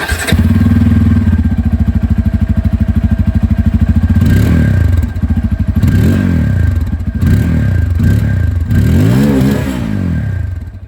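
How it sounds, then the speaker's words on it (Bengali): A 2024 Bajaj Pulsar F250 with a dual barrel exhaust rumbles loudly at close range, idling and then revving in repeated rising blips. "এবার এখানে আপনারা ডুয়াল ব্যারেল এক্সস্ট পাচ্ছেন, আওয়াজটা একবার শুনে নিন এটার।"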